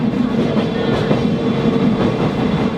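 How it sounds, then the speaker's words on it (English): The old Sagano Romantic Train rumbles steadily along its tracks in Arashiyama, Kyoto, a loud, continuous close-up roar with rhythmic wheel clatter. "Let's take a moment to enjoy the sound of the old train going along the tracks."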